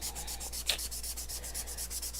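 Small craft pieces get a light, quick back-and-forth sanding by hand, soft rhythmic scrubbing strokes repeating close up and alone at low volume.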